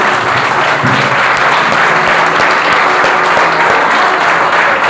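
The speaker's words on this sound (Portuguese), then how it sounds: "Vamos dar uma salva de palmas para o Senhor." Loud, sustained clapping from a large church congregation, dense and even for the whole stretch, with a low hum beneath.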